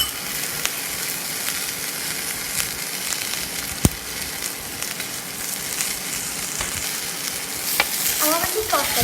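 Ginger garlic paste and chili paste frying in butter on a tawa for Mumbai-style pulao, giving a loud continuous close sizzle with occasional sharp scraping knocks from stirring.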